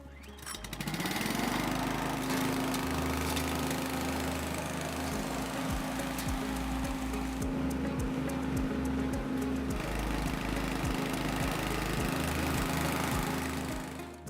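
A Cobra WV580SPL wheeled garden vacuum's petrol engine starts, rises quickly to a loud, steady running drone and holds there, with a rhythmic low clatter underneath and no voices.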